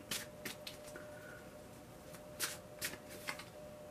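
Tarot cards are shuffled close by, giving quiet, repeated riffling bursts with short pauses between them against a faint steady hum.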